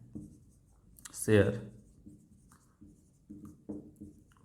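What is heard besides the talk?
writing on a board during an accounting lesson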